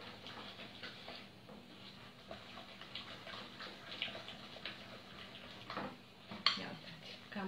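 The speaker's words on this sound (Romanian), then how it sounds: "Amestecăm bine, bine." Chocolate biscuit dough being stirred in a bowl, a steady soft scraping and clinking of utensil against dish, fairly quiet and close, with a sharper knock near the end.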